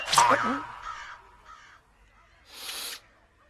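A crow caws loudly close by, one harsh call followed by shorter fainter caws and a final drawn-out caw after a brief pause.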